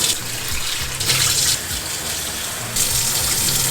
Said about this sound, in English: So what we have to do is throw away that liquid and wash your ampalaya.